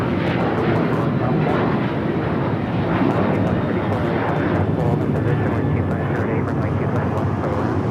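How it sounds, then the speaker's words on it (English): A United Airlines Boeing 737-900ER departs LAX for Washington Dulles, its engines producing a loud, continuous broadband roar with voices talking over it. "1635 taking off to Washington Dulles on the 737-900 ER"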